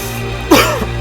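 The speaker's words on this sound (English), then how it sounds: "as Marty then sits there covered in blood as he starts coughing" A man coughs after being beaten and left bloodied, in a dramatic TV scene: a single short, loud cough burst over a steady low background hum.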